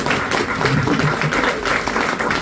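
An audience claps at a business presentation, a steady wash of hands at moderate loudness running through the whole stretch, with a voice speaking faintly under it.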